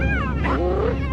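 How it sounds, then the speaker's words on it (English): A lion-like alarm call from a clan member warning of danger, a short, tense, rising vocal cry heard close and clear over a low rumbling background, lasting about a second. "emits an alarm call, warning the other clan members of the danger"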